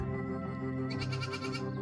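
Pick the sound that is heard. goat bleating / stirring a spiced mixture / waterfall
goat bleating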